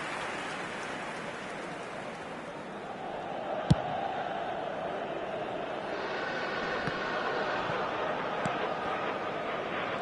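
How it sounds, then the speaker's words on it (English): A football stadium crowd applauds a player's effort, a broad steady wash of distant clapping and murmur from thousands of fans, rising slightly midway, with a single sharp knock. "at least the crowd are appreciative of his efforts"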